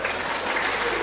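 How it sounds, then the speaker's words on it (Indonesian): Applause from a church audience during a sermon, a brief burst of many hands clapping together in an even, hissing wash. "Nggak usah tepuk tangan"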